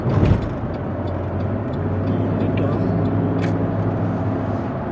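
A car being driven, its engine humming low and steady from inside the cabin with road rumble throughout, and a brief louder bump at the start.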